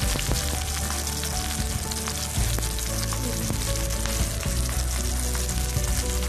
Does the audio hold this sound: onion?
yes